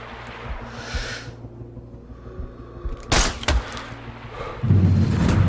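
Sniper rifle shot in the video game Sniper Ghost Warrior 3, a sharp loud crack followed by a second quick report amid low ambient game atmosphere, then a swelling low rumble toward the end.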